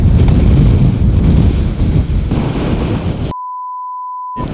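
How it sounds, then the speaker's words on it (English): Loud wind buffeting the microphone in rough bursts at an outdoor shooting range, then cut off abruptly by a steady electronic beep tone. "It's so windy that it just takes your voice."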